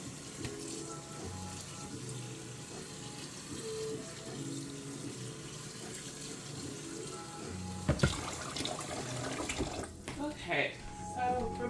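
Tap water runs steadily into a pot for a raw zucchini soup, a continuous broadband rush under quiet background noise, with a few clatters and splashes near the end.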